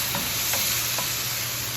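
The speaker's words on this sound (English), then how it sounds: "Add some garlic. Teaspoon garlic. Okay. Let it cook." Garlic and hamburger meat fry in a pan with a loud, steady sizzle, broken by a few faint stirring scrapes and no voices.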